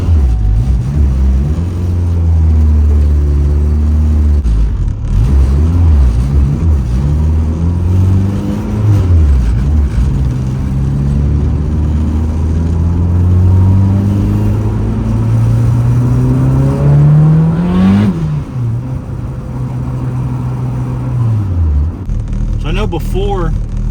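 A turbocharged Honda Civic fitted with a limited-slip differential transmission and new gearing drives on the road, its engine note rising and falling steadily through gear changes, loud and close from inside the car.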